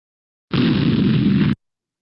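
Explosion sound effect from a children's animation: a single loud burst of noise lasting about a second, with a sharp start and an abrupt cutoff, isolated in silence.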